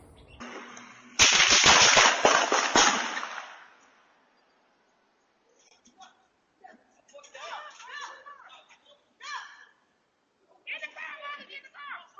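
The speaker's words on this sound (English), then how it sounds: "there were gunshots that went off" A burst of sharp, loud cracks fires in quick succession, like gunshots, then fades into quiet with faint, distant voices talking.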